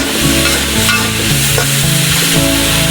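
Rohu fish belly pieces cook down in a curry in a pan, a loud steady sizzle broken by the scrape and clatter of repeated stirring.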